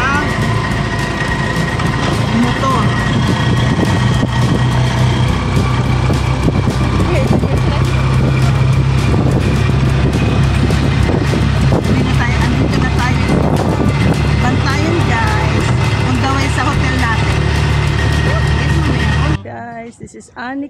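A motor engine drones steadily and close at sea for about twenty seconds, with rushing wind and water noise, and voices talking over it at times before it cuts off abruptly.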